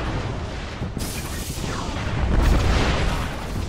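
A grenade blast in the video game Destiny, a deep rumbling boom that swells and lingers over a noisy battle background, fairly loud with no talk.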